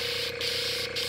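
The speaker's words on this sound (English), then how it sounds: "I'm going to go ahead and spray it up" Aerosol spray paint goes on in brown over green-painted Predator cosplay arm and leg pieces: a steady, close, loud hiss with two brief pauses.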